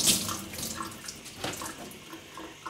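Water runs steadily from a kitchen faucet onto a cleaning cloth, a close, continuous splashing hiss that stays alone and even for the whole few seconds.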